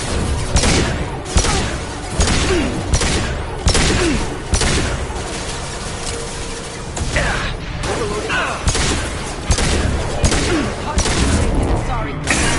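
A firefight in Mass Effect 2 brings dense, continuous gunfire and repeated bursts close by, loud and relentless, with shouted voices mixed into the barrage.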